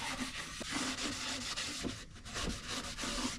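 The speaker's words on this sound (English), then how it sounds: "this can be applied by just using a cotton rag and rubbing it onto it" A cotton rag rubbing a finish onto a wooden crosscut sled, with close, repeated brushing strokes in a steady back-and-forth rhythm and no talking.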